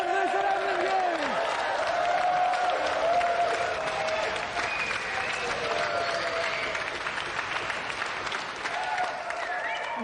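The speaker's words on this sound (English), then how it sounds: "let's have another round of applause for our winner, Sonny Nair, and our gallant loser, Emlyn Hughes" A studio audience at the GamesMaster video-game show applauds a winner and runner-up, dense steady clapping and cheering filling the whole stretch, with whoops and shouts on top.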